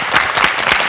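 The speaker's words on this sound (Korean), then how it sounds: "오늘 우리 김한준 박사님의 강의 큰 박수로 부탁드리겠습니다" A lecture audience claps for Dr. Kim Han-jun in dense, loud, continuous applause, with many hands overlapping in a steady roar throughout.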